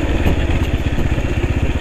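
Motorcycle ridden solo over a rough mountain road, its engine putting out a steady, close low chugging with clattering over the bumps, heard alone with no voices.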